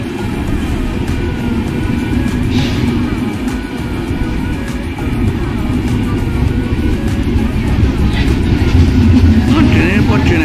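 Passenger trains, including the Kolkata–Jogbani Tirhut Express, moving through a busy Indian railway station make a steady, loud rumble across the whole stretch. Voices mix into the station noise throughout.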